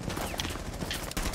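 Gunfire in Rainbow Six Siege, a dense, loud crackle of shots and impacts that runs through the whole short moment, with a sharp crack near the end.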